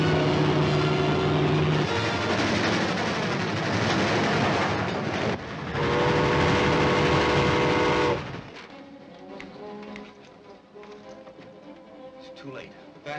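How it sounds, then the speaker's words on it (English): A loud, dense rumble of a passing passenger train with clattering rail noise, abruptly fading to a quieter background of distant rattles and faint voices. "The passenger train's already going through the junction."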